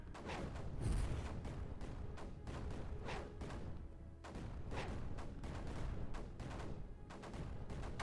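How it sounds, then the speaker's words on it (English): Mortar shells fire and land in Creeper World 4, a string of dull thumps and booms repeating every second or so at a steady level, with one heavier hit near the start. "there we can see again the mortar hitting the, you know, not doing much there"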